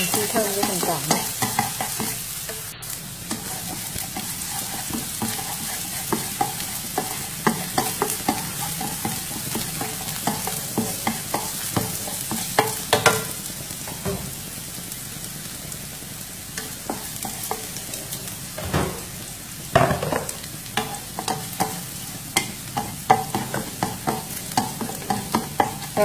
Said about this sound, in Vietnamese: Khi dầu ăn nóng thì các bạn cho mình phần tỏi này nhé